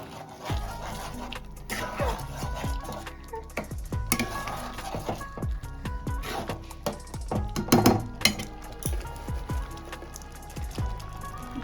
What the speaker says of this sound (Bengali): মশলাটা দিয়ে একটু মানে ভালোভাবে মিশিয়ে নেব